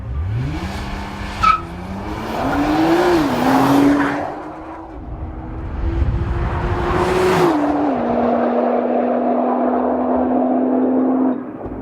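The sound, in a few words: 2014 Nissan GT-R Track Pack launch control acceleration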